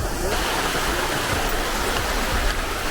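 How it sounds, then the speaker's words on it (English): Rio Celeste waterfall in Costa Rica, heard as a continuous broadband rush of falling water, loud and steady like heavy rain, with no break in the roar. "this is a beautiful waterfall. From right here, you could even hear it."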